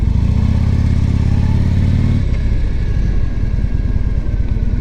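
A 2011 Harley-Davidson Ultra Classic Limited motorcycle on a ride, its loud, deep engine drone steady and close throughout, the low rumble shifting a little partway through.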